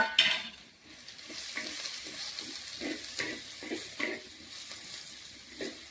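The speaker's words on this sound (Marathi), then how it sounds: "कांदा आता छान परतून घ्यायचा आहे गुलाबी होईपर्यंत" Onions sizzle and fry in a clay pot while a spoon stirs and scrapes at intervals, close up and steady.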